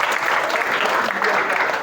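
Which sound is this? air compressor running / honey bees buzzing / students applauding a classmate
students applauding a classmate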